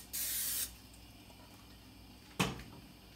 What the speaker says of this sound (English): I sprayed oil on it